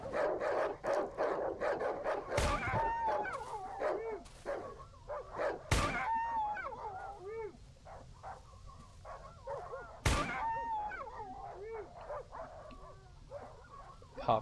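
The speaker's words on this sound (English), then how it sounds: "There are way too many dogs in here." Dogs bark repeatedly in the horror video game Darkwood, several animals overlapping in rapid volleys, with three loud sharp gunshot cracks cutting through the barking.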